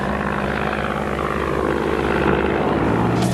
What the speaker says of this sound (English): A popular aircraft with the men who flew it, the PE-2 was easy to handle, stable in a dive, and capable of very accurate bombing.